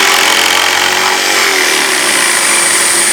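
A Mafell pendulum power saw cuts into wood, giving a steady, loud, high-pitched whine of blade and motor that holds evenly for a few seconds with no talking.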